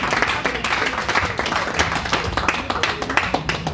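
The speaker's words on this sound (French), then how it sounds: "applaudissons pour la gloire du Seigneur Jésus" Worshippers at a church service clap together in lively, uneven applause, a dense patter of hand claps heard close and fairly loud without talk.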